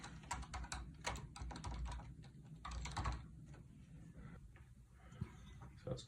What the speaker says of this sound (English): you'll type in the password